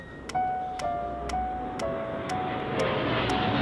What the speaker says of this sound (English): that is a plane going overhead, that's not the piano playing.